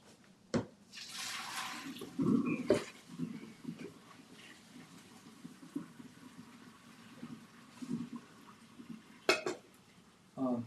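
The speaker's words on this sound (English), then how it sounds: "Now it's draining right now in a colander." Water from cooked Italian pasta drains through a colander, with a soft hiss of running water, scattered metallic clanks of pot and colander, and intermittent sharp knocks.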